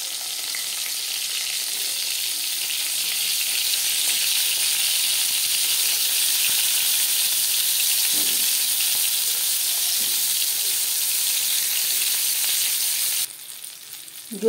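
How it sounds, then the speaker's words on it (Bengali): Eggplant slices for begun bhaja frying in hot oil give a steady, loud, close sizzle and crackle that holds evenly, then cuts off abruptly near the end. "এবার আমি পরের ব্যাচের বেগুন ভেজে নেব"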